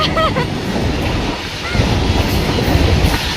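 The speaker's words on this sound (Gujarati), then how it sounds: "રેલગાડીના પડખે જ છીએ અમે" A train rumbles past close by, a steady loud roar with rhythmic clattering of wheels on rails throughout.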